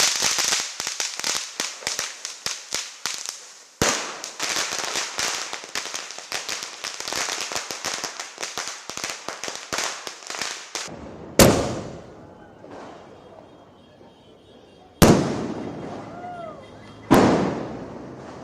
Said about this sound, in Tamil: பகலில் பட்டாசு சத்தமும் இரவில் வான வேடிக்கைகளும் களை கட்டின.